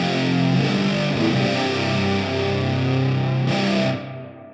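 Distorted electric guitar through the second amp of a Fractal preset for a song, a thick, heavy, fuzzy sustained tone with little high end, played alone and fading out at the end.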